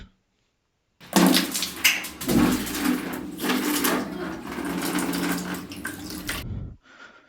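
Warm water runs steadily from a geyser-fed tap for several seconds to bathe a pet dog indoors, a continuous close splashing flow that starts abruptly and stops near the end.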